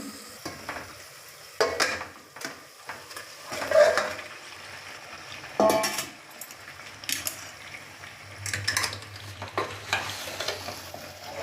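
Mutton is tipped into a sizzling pot of oil and turmeric for bagara curry and stirred, giving repeated bursts of frying hiss and scraping spoon strokes over a low background sizzle.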